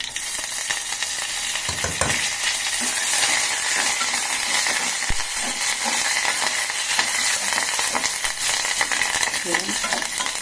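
Fresh curry leaves sizzle in hot tempering oil for a tamarind spinach dal, a steady bright crackle with occasional stirring clinks, close and continuous with no talk.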